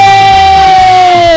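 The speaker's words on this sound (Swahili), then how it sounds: "makofi na vigelegele" At a wedding celebration a loud, sustained high-pitched ululation rings out close by, holding one steady tone that drifts slightly downward, with crowd noise underneath.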